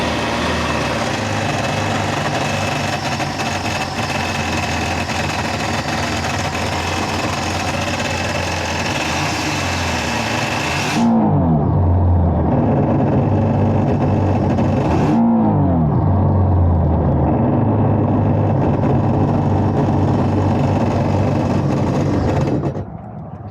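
A Sea-Doo jet ski engine, serviced by a Florida powersports technician, runs at a steady loud drone, then is started again with two sharp revving bursts around the middle and continues running strongly near the mic.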